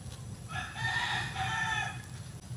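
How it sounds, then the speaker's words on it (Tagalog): A rooster crows once at moderate distance over low rural background murmur, in a countryside farm setting by the sea, with no talk. "Yan mga birds, ganito dito sa amin sa probinsya"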